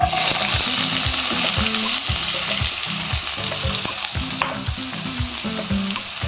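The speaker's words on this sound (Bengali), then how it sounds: "কড়াতে তেল দিয়েছি, তেলটা গরম হয়ে গেছে। এতে আমি কিছুটা পেঁয়াজ ভেজে নেব।" Onions frying in hot oil in a wok hiss loudly and continuously, with a repeating low tonal pattern running underneath.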